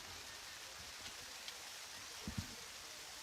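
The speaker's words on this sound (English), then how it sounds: "rain still coming down pretty hard here in Shelby, Ohio" Steady rain falls hard at an outdoor softball district final in Shelby, Ohio, a soft constant hiss with a few faint thumps near the end.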